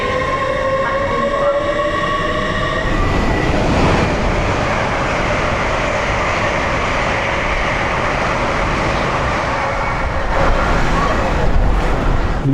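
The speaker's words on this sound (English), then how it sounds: "Train now approaching platform 1 does not stop here." A train rumbles loudly through a London station platform without stopping, steady roar of wheels on rails with a brief tonal horn-like whine at the start, continuous throughout.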